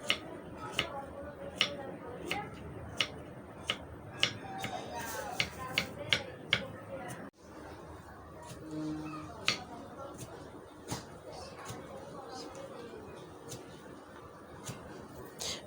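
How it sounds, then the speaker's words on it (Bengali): Peeled bangri fruit cut with a knife, giving crisp, evenly spaced chopping strikes close up, with a voice faintly in the background part of the time. "এখন একটু কেটে নেব।"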